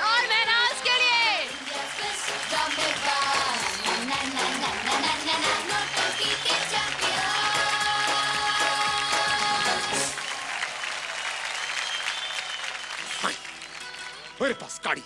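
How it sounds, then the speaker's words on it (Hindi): Applause for two performers on a Hindi television talent show, a long, full burst of clapping and crowd noise with music and voices mixed through it, easing off in the final seconds. "ड्रामेदार तालियां यश और महनाज के लिए"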